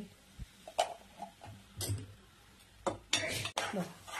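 Sheera made from leftover chapati, stirred with a little ghee in a pan, giving a few close, scattered spoon scrapes and clinks against the metal.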